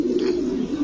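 Chila pigeons coo softly at close range in a single short, warbling call, with faint background noise and no talk.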